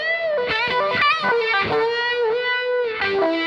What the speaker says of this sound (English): The Univibe chorus is a vibrato signal with a phaser running along the top of it.